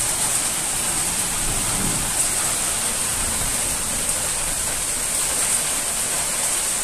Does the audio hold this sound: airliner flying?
no